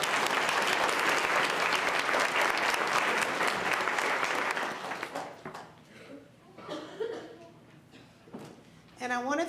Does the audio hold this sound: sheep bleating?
no